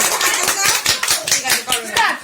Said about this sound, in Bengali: সবাই একটু হাততালি দিয়ে উৎসাহ করবে আমাদের